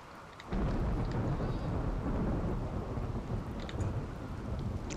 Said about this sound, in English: Good lord, this thunder